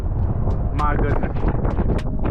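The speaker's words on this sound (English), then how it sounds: "There's some serious wind out here, and it is not to be messed with." Strong wind buffeting the microphone on a Zanzibar beach during kite surfing, a constant loud low roar throughout with a person talking over it.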